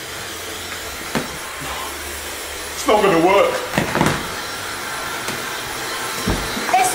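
A hair dryer blows steadily on a wet MacBook Pro that went into a swimming pool, a continuous airy whoosh running the whole time, close and fairly loud under people talking.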